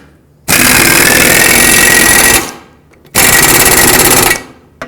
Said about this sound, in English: so that's why I'm using just my air gun